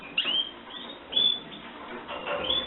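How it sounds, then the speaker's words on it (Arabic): A satinette canary sings in short, bright chirps and trills, fairly faint and thin, with brief gaps of near-quiet between phrases. "جهزت الكناري وبالتحديد كناري ساتيني"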